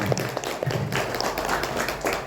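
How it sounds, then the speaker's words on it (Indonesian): Small audience at an Indonesian religious study gathering clapping, a scattered patter of claps in a room that lasts a couple of seconds, with faint voices beneath. "Tepuk tangan buat kita semuanya."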